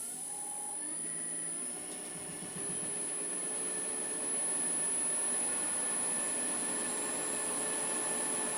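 Wood lathe spinning a sycamore bowl blank, a steady motor hum and whine that steps up as the speed climbs, close and continuous with no talk.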